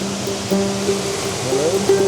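A waterfall on a Tennessee brook trout stream makes a constant loud rushing roar that fills the whole scene, with voices speaking over it.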